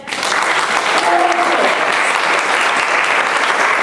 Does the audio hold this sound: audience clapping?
yes